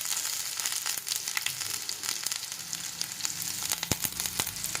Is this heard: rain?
no